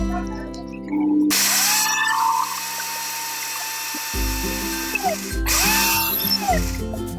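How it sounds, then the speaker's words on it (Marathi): A kitchen mixer grinder grinding dry dates (kharik), with loud, harsh high-pitched whirring in several bursts that start and stop, and a motor pitch that rises and falls between runs. The grinding is close and there is no talk. "त्यानंतर आपली खारीक आहे ती वाटून घेऊ."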